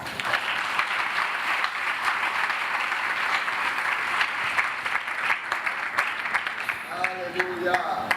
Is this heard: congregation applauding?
yes